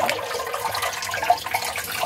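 Homemade borhani yogurt drink strained by hand and poured, a steady close liquid trickle and splash running without pause.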